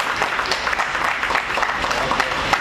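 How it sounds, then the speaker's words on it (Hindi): Dense, steady applause from an audience at a Rotary organ donation honouring ceremony, many hands clapping loudly and continuously at close range. "कृपया जोरदार तालियां बजाएं"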